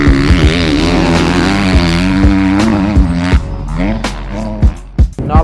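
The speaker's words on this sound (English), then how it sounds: "riding the 2018 250 KTM SX F." A 2018 KTM 250 SX-F four-stroke motocross bike revs loudly at a motocross track, its engine rising and falling through gears with sharp throttle blips as it rides past.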